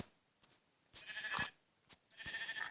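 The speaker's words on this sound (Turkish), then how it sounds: "koyun olsun. koyun sesi." Two short sheep bleats in Minecraft Pocket Edition, a second apart, fairly faint, with a few quiet clicks between them.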